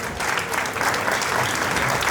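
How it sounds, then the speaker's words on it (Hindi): Dense, continuous applause from the audience at a book launch, a full roomful of clapping holding at an even loud level throughout the short stretch. "इनके लिए ताली बजाने का दिन है"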